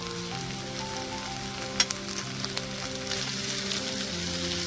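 Ivy gourd (dondakaya) curry sizzles steadily in a pan over a medium gas flame, with a continuous crackling fry and a few sharp pops from the oil.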